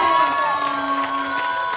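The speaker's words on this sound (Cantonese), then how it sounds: "掌聲俾我聽下好唔好啊？" Fans at a live Christmas music fan gathering clap and cheer, a lively crowd with scattered whoops and children's shouts over a sustained musical tone, fairly loud throughout.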